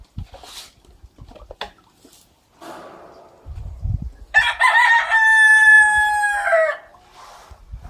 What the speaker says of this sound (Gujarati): બાકી ત્યાં કુકડા હે અહીં ખાધા કરે